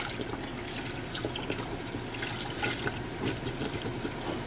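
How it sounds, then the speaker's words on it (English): Chicken broth pouring into a pot on a stovetop burner set to high, a continuous liquid splashing and gurgling that runs steadily at close range with no talk. "we're gonna take some chicken broth, and we're gonna dump the whole thing in there"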